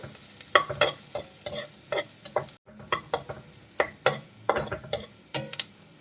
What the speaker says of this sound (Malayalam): ഇതുപോലെ ചെറുതായിട്ട് അരിഞ്ഞെടുത്ത ഒരു 3 പച്ചമുളക് ഞാൻ ചേർക്കുന്നുണ്ട്. അതും കൂടി ചേർത്ത് നമുക്കൊന്ന് വഴറ്റി കൊടുക്കാം.